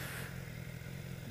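A BMW S1000XR sport adventure motorcycle engine drones close and steady through a quickshifter gear change, with no distinct pop standing out in the brief stretch.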